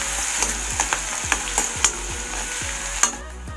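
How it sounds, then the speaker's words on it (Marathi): Cumin and garlic paste sizzles in hot oil with onion while a spoon scrapes and stirs the pan in quick, regular strokes, each stroke a sharp knock over a loud, constant fry. "जिरं, लसणची पेस्ट, फिरवून घेणार आहे चांगलं."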